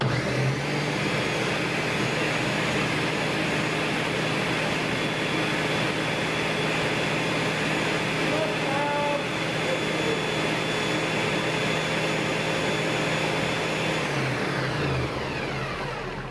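A blender whirs loudly and steadily while pulping paper strips, a continuous motor drone with a dense hiss that holds unbroken for about fifteen seconds before winding down at the end.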